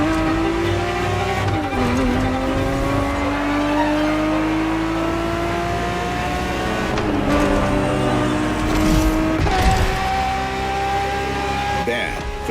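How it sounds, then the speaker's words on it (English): A Ferrari 365 GTB4 from the 1970s races in The Crew Motorfest, its engine revving loud and close through rising gear pulls with brief dips at shifts, while a voice talks over it. "365 GTB4 is the perfect vehicle for you to experience Ferrari racing as it felt back in the 70s"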